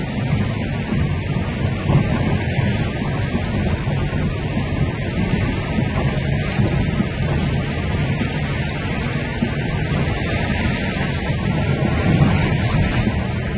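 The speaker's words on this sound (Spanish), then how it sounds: "Fuerte, fuerte el aguacero que está cayendo en Pénjamo." Heavy rain pours down at night during a strong downpour in Pénjamo, a steady dense roar of water that holds at an even, loud level from start to finish with no voices.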